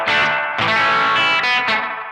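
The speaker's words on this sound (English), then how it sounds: "It's got the sound of the spring flapping around, boinging around." An electric guitar runs through a Danelectro Spring King Junior spring reverb pedal, several strummed chords ringing with a bright, lively, slightly boingy wash that carries between strums, close and loud with no speech.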